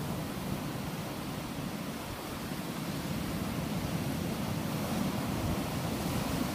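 Roughly six-foot ocean surf breaks on a dead coral beach in a steady, dense wash of surging water, with no clear gaps between waves and no voices.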